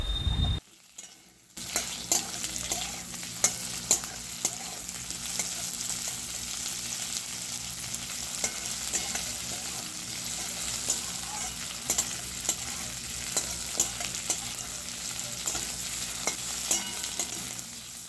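Potato pieces and lightly fried onion sizzle steadily in a pan of hot oil, with frequent scraping stirs throughout, close and fairly loud, no voices present.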